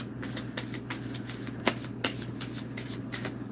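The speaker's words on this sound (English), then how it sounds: "And then I'll give one more shuffle" Angel cards are shuffled by hand in close, quiet bursts, a run of soft riffling flicks and slaps repeating in quick succession.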